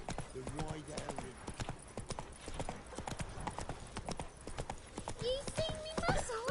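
Hoofbeats of Roach, Geralt's horse in The Witcher 3, clopping steadily at a gallop throughout, with game speech and voices over them and a short musical phrase near the end.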